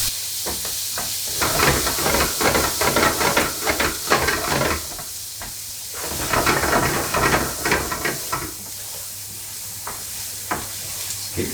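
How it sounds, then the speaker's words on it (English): Onions and whole cumin seeds sizzling in a very hot pan while stirred for a salmon rice pilaf, a loud hissing sizzle broken by bursts of scraping strokes, close and without talk. "Keep stirring that through just until the onions are softened."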